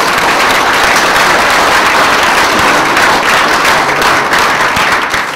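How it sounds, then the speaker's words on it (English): Loud, dense applause from a conference crowd thanking the organising team after a keynote, continuous and close, with no talking. "Can I have a round of applause for my team"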